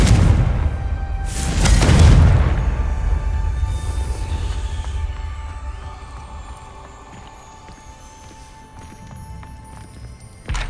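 A Confringo blast spell fired in Hogwarts Legacy inside Salazar Slytherin's maze: one loud, booming burst early on, then a long fading rumble under steady game ambience.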